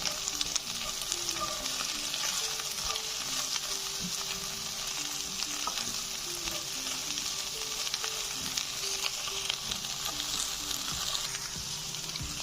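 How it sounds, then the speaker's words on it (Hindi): Okra (bhindi) roasts in a pan with a continuous, even sizzle and crackle throughout, fairly soft and steady, with occasional faint stirring scrapes. "ये भिंडी हमारी हाफ रोस्ट हो गई है, अभी फुल रोस्ट नहीं हुई।"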